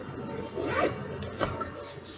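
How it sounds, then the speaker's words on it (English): A zipper on a purse being pulled open or shut, a short rasping run followed by a second quick pull, heard close and fairly quiet with no talking. "zipper."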